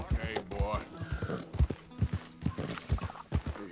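Hooves clip-clop in a steady rhythm from brown and white horses in a video game, with a brief whinny, heard under a player's continuous chatter.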